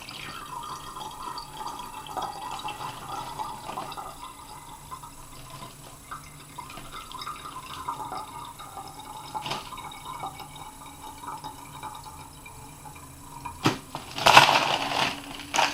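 Melted ice water poured through a cloth filter, a soft, continuous trickle and gurgle that runs quietly, then louder splashing and clinking near the end.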